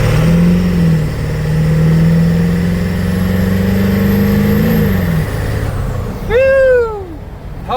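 A van engine revs hard while accelerating, loud and close, its tone climbing steadily before dropping off, followed by a sharp rising squeal.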